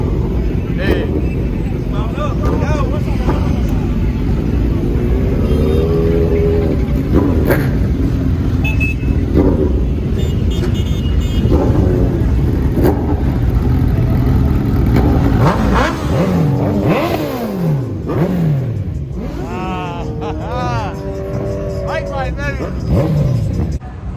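Harley-Davidson motorcycles rumble and rev at a motorcycle event in Cleveland, Ohio, engines rising and falling in several loud bursts close by, heard beneath someone talking throughout.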